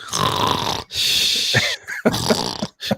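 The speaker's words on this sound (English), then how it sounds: "Thanks for snoring in our ear." Loud, close snoring noises sound straight into a microphone as a run of rough, wheezy snorts and grunts separated by brief pauses, heard without other talk.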